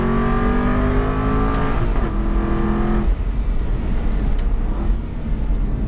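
An Aston Martin V8 Vantage's 4.3-litre V8 engine revs loudly up close, the pitch climbing and then dropping away into a rumbling idle.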